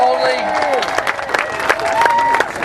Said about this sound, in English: we need to give them an applause for what they've done